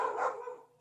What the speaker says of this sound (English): my neighbor's dog is not happy